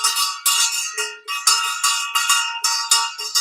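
A bright bell rings repeatedly in quick, uneven strikes, each ringing tone clipped short by the next, loud and close with no voices.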